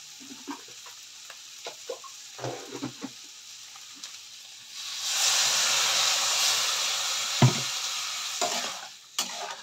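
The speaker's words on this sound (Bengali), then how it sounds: "এবার জল দিয়ে দেবো আমি।" Water hits a hot pan of frying bitter gourd and erupts into a loud, steady steam sizzle lasting several seconds. Quieter clinks and stirring noises come before it, and a few sharp knocks follow.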